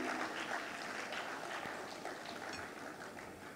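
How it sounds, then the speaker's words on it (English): Audience applause at a Nigeria Computer Society annual conference in Ibadan as a delegation leaves the podium, a steady wash of clapping from a large crowd filling the hall for several seconds and easing off slightly. "please give them a round of applause as they leave the podium"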